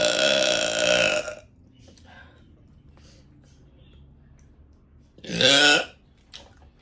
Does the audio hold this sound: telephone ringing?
no